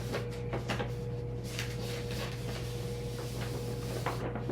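A sewn parchment scroll, its sections stitched together with thread, being rolled by hand. It gives a steady, close papery rustle and scraping with a few soft knocks over a low electrical hum.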